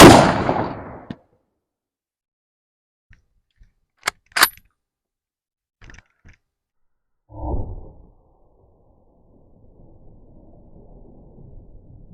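A 7mm Mauser rifle fired into a log gives a sharp, isolated crack outdoors, with a few faint clicks before and a brief duller thump afterward over near-silence.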